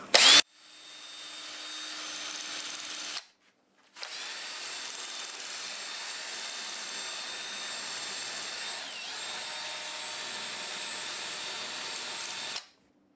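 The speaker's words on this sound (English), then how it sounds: "I'm going to use the Sandiflex to see if I can clean this bark off" A Sandiflex abrasive wheel whirs steadily as it sands bark off black locust wood, a continuous abrasive hum that stops briefly, then resumes and runs until cutting off near the end.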